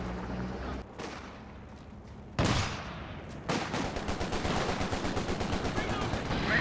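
Gunfire and heavy mortar blasts in the video game Company of Heroes 2: scattered shots, a sudden heavy explosion, then sustained rapid machine-gun bursts, with a commentator talking over the battle.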